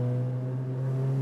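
A Jaguar F-Type engine pulls hard in third gear with a steady, loud, close drone that holds for a moment.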